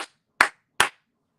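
Three sharp hand claps, evenly spaced about 0.4 seconds apart, loud and close with silence between them and no talking.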